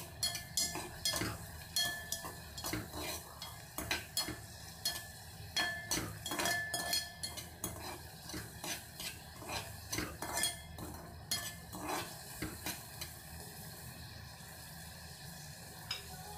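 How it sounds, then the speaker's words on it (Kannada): Baby food being fried and stirred in a pan until soft, heard as repeated quiet clinks and scrapes of a utensil against the pan over a faint, low sizzle. "ಸಾಫ್ಟ್ ಆಗೋವರೆಗೂ ಇದನ್ನು ನೀಟಾಗಿ ಫ್ರೈ ಮಾಡಬೇಕು."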